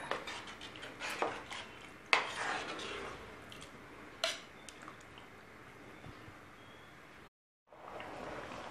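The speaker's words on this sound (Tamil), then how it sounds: "கொதிச்ச உடனே கிண்டி விட்ருங்க" A spoon stirs tomato rice in a boiling pot, giving a few faint scrapes and clinks against the metal over a soft bubbling background.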